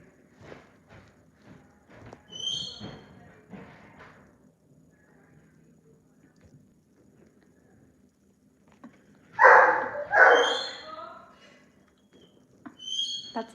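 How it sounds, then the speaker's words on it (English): A pet dog kept in a crate indoors lets out a pair of sharp, close yips and barks after a stretch of quiet, with faint knocks and shuffling earlier and another brief yelp at the end. "That's my dog."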